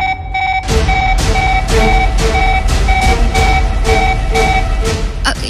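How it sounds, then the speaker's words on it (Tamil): A gym locker alarm sounds on a cell phone, a loud electronic beeping repeating in a steady rhythm of about eight pulses close by, with no talking over it. "இது ஜிம்ல இருக்க லாக்கரோட அலாரம் சவுண்ட்."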